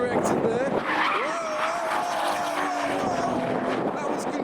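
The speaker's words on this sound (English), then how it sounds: "Whoa, Astra's getting a bit of oversteer." Tires squeal and skid as a Vauxhall Astra oversteers on a race track, a long wavering screech over steady engine noise and nearby cars, with a voice talking over it.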